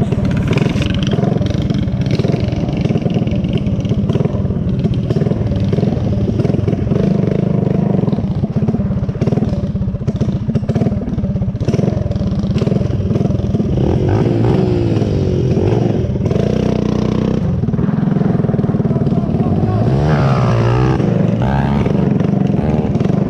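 A 212 cc dirt bike with governor deleted and aftermarket exhaust and a Honda XR80R dirt bike engine run loudly and continuously up close, with repeated revving and throttle swells throughout.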